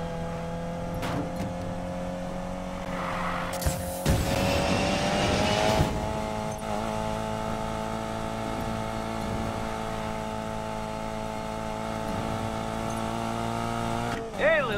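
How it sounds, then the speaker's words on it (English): Race car engines in the video game Need for Speed Payback rev loudly and steadily, with sustained engine drone, a surge of acceleration midway and brief tire noise, under occasional game dialogue. "Better hurry, engines are revving."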